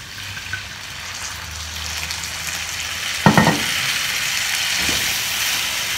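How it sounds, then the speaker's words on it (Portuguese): Dry white wine sizzles steadily in a pan of lemon risotto as a spoon stirs through it, a close, constant hiss with a brief louder scrape midway. "E aí a gente vai mexer até todo o vinho branco secar aqui."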